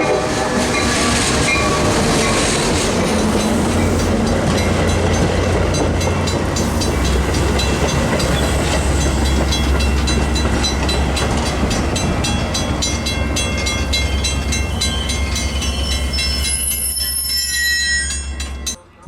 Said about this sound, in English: West train number 2711 to Elgin is